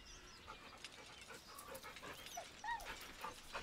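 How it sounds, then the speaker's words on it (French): A dog in the video game Baldur's Gate 3 whimpers nervously, giving a few soft, high whines and pants over quiet ambience. "The dog whimpers nervously"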